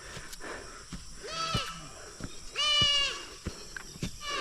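A goat gives two loud, close bleats, each a quavering call lasting about half a second, over faint outdoor background noise with scattered clicks.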